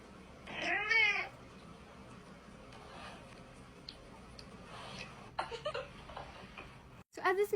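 Cat meowing, a loud drawn-out meow near the start followed by quieter rustles and ticking, then another sharp cry at the very end.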